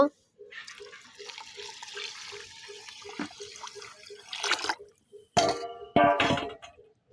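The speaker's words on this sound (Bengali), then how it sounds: "এই দেখুন এখানে পরিমাণ মতো পানি দিয়ে দিচ্ছি" Water poured into a wok (kadai) holding washed broken rice and sliced green chillies gives a steady splashing pour, followed by a pause and two sharp clattering bursts up close.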